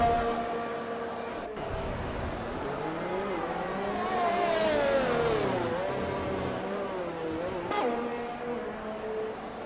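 Race car engine in a racing video game revving and accelerating away at the start of a lap on an Italian circuit, a rising whine layered with other engines, steady and fairly loud beneath a commentator's talk.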